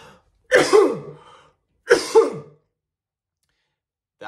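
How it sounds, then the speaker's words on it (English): Two hard, forceful deliberate coughs, each a harsh burst about a second long, the second coming shortly after the first, close and loud with silence between and a third beginning at the very end. "You need to cough really, really hard."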